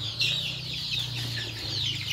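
Desi chickens cluck steadily and close by, a dense overlapping chorus of fowl calls that carries on for the whole stretch without any talk.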